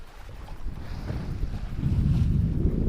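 Wind at sea aboard a sailboat with the engine off, a low rumbling gusty roar with wind buffeting the microphone, swelling louder toward the end, no talk.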